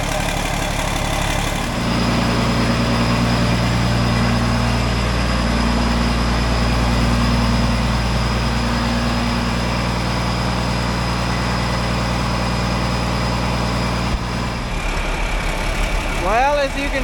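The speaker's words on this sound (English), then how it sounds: "as you can tell by all the racket and the smoke in the shop, we got all the tractors running" Several John Deere 4640 tractors idle together while warming up in a chilly shop, producing a loud, steady, close low rumble with a constant drone that runs throughout and shifts slightly near the end.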